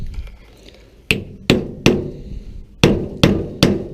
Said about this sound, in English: I'm going to tap that down tight.